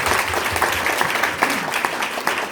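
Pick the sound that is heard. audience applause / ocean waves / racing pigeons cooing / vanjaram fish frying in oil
audience applause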